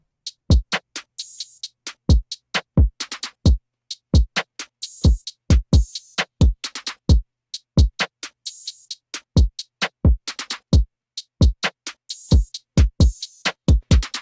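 A crisp trap drum beat programmed in FL Studio, with punchy kicks, sharp snares and quick hi-hat bursts, repeating in a steady bouncing pattern with no voices.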